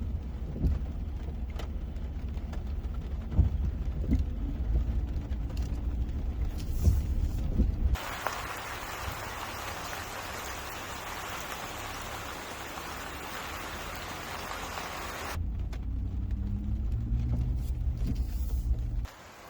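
Rain patters on an overlanding vehicle driving through the Mark Twain National Forest in Missouri, with a low engine rumble under it and a stretch where the rain hiss swells much louder before easing back.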